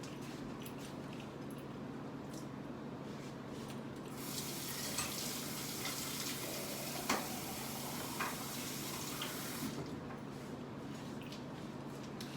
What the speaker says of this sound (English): Let me go ahead and drain off my hose.